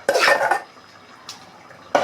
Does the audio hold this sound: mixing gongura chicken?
yes